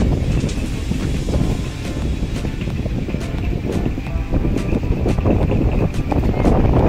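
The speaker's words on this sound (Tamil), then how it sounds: "காற்று சவுண்டு கேட்குதுங்களா?" Steady, loud wind rushes and buffets the microphone over a constant low engine-and-water rumble from a moving houseboat on the Alappuzha backwaters, Kerala, with no talking.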